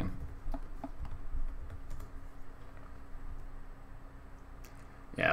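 Soft, scattered keystrokes on a computer keyboard during a Pokémon battle, faint clicks over a low background hum, with a louder burst at the end.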